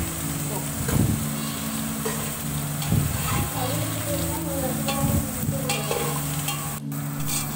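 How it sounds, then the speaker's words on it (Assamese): Onions frying in oil in a pan for chicken biryani, a steady sizzle with periodic scraping stirs and a low engine-like hum underneath. "এতিয়া আমি তেল দিলোঁ, পিঁয়াজ দিলোঁ, পিঁয়াজখিনি ভাজি আছোঁ"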